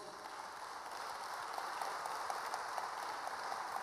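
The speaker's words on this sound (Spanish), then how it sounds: "Usted puede aplaudir a Dios en el día de hoy." Church congregation at a seminar applauding, a steady wash of many hands clapping heard from a distance, even and continuous throughout.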